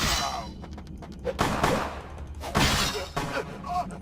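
Shotgun blasts in the vampire game Vampire: The Masquerade - Bloodlines, several sharp loud bursts spaced irregularly across a few seconds with crashing, shattering tails between them.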